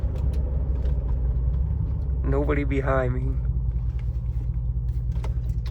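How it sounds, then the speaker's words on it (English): A cheap, well-worn daily-driver beater car accelerates hard from a stop, its steady engine rumble droning from inside the cabin as the driver speaks briefly over it. "Let's do a little 0 to 60 pull."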